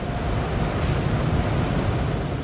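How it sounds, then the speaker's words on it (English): Loud, steady rush of air from car wash drying fans with a deep rumbling roar, continuous and close, no voices. "These fans hit your car with intense air pressure."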